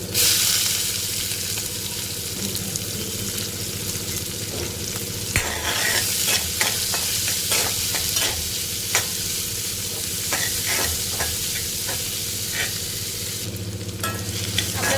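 Sliced onion, green chillies and asafoetida sizzle and crackle in hot oil after mustard seeds, with the spatula scraping and stirring through the pan. The frying sounds bright and steady throughout, with sharp clinks of stirring and no talk.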